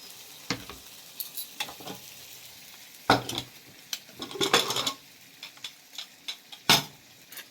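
Chicken fat ghugni sautéing in a pan, with scattered clinks and scrapes of a spatula against metal over a faint, low sizzle, quiet and irregular with no talk.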